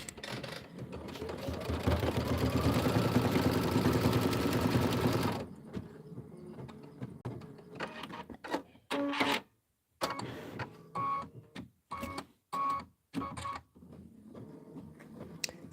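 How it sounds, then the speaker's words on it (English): An embroidery machine stitches out small circles, buzzing in a steady fast whir for several seconds, then breaking into short stop-start bursts separated by pauses, with no talk. "And now we're stitching out those little circles."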